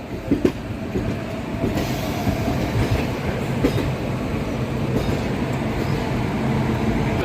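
A passenger train pulls into Visakhapatnam, its wagons rumbling loudly and steadily with rhythmic clickety-clack of wheels over rail joints and occasional faint squeals, no one speaking.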